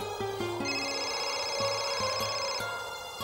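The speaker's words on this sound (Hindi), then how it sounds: "चल मेरा फोन बज रहा है।" A phone ringtone chimes in a repeating electronic pattern, loud and close, with no talking.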